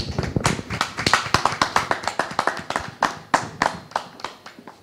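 An audience claps to welcome a guest at a talk on parental authority and financial aid, a fairly sparse group of distinct, sharp handclaps falling in a loose rhythm, close and clear.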